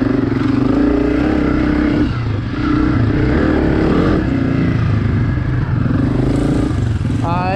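Motorcycle ridden around the Croom Motorcycle Area, its engine loud and close throughout, droning and surging with throttle changes over rough ground.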